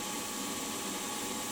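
A 3mm spotting drill cuts through the guard on a WM16B milling machine, giving a continuous dense whirring hiss for the whole short stretch with no talk.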